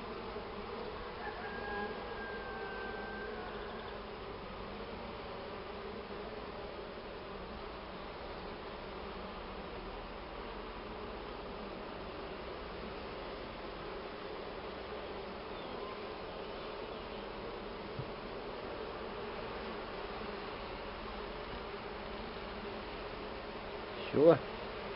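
Honey bees pour out of a hive during transfer to a trap box, a steady, dense buzzing drone that holds for the whole stretch at moderate level, with a brief knock near the end.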